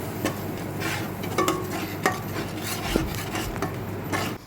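Turmeric, chilli powder, coriander powder and salt are stirred in a cooking pot, with repeated metallic scrapes and clinks of the spoon against the pot over a faint, low sizzle.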